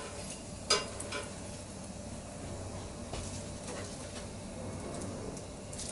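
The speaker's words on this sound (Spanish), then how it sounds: "Y continuamos así friendo con el resto." Panko-coated stuffed potatoes frying in oil, a faint, steady sizzle with a single sharp clink early on and a few light utensil taps, no talk.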